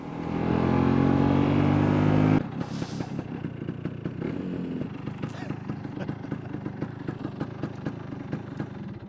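Vespa 180 SS scooter engine fitted with an SI carburettor, running at low speed in fourth gear: a steady close putter with rhythmic clattering pulses, preceded by a louder, denser engine drone that drops off abruptly.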